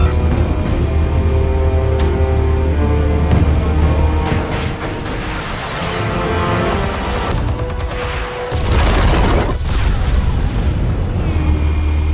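Armed explosives detonate in a video game, producing loud, heavy booms and crackling blasts that roll over a continuous bed of game music and rumble.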